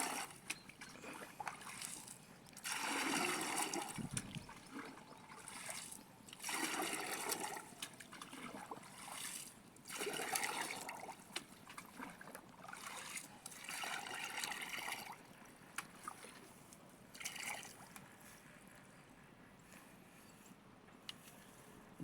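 Water sloshing, splashing and trickling as fertilizer is mixed in a container for a string bean garden, irregular bursts of liquid noise at close range that thin out to faint dribbles toward the end.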